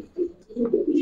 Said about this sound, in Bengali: এটা একটা মাদি কবুতর দেখেন